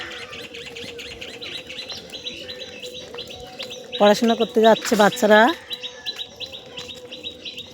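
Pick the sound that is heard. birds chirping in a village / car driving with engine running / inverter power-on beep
birds chirping in a village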